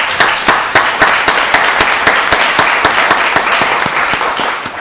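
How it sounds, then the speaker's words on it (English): Audience applause at a county board of commissioners meeting, many hands clapping in a lively, slightly rhythmic patter that stays loud and close before easing off at the end. "that deserves another round of applause"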